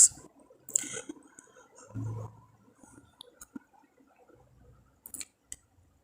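Scissors snip through dress fabric while a back pattern is cut, with a few sharp soft clicks and rustles scattered across quiet stretches, close and faint.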